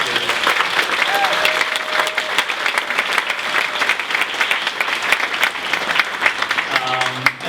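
A crowd applauds volunteers from a residents' and neighborhood association, with steady, dense clapping throughout and a few voices near the end.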